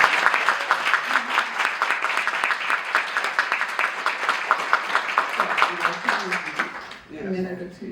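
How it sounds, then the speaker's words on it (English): An audience applauds an honoree at a community advocacy event, a dense, steady round of clapping that holds for several seconds before fading out as a voice begins near the end. "join me again in giving her a round of applause for all the work she's done"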